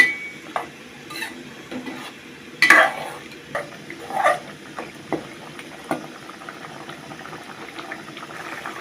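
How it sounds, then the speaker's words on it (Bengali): Bottle gourd, fish head and chana dal being sautéd in a pan, with a bubbling simmer under scattered scrapes and clinks of a spoon against the pot, close and moderately loud, no talking. "এইভাবে ভালো করে কষাইতে হবে"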